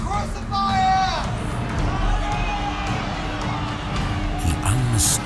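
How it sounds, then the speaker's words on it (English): A film crowd shouts demands at Pilate, a loud, massed roar of overlapping voices and cries that holds steady throughout with whoops rising above it. "He unmistakably hears the crowd's demand."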